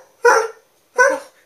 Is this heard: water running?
no